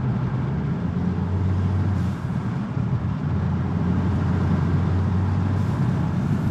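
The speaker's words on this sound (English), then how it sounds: "You can even hear the actual turbo noise this time." VW Tiguan with a stock turbo engine, windows up, giving a steady low drone of cabin and engine noise while driving, with faint turbo whoosh blending into the constant hum.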